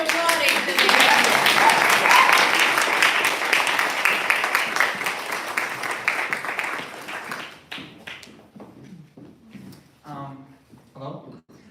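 Sustained applause from an audience after a poetry presentation: dense, close clapping for about seven seconds that thins into scattered claps, then a person starts speaking.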